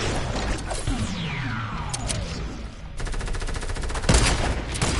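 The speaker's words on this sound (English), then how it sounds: "I think it's a quad launcher." Heavy weapon fire and explosions in a first-person shooter game, a quad launcher, with sweeping whooshes, rapid staccato bursts and a loud blast near the end.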